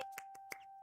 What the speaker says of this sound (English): we should do a little more clapping perhaps for Fairy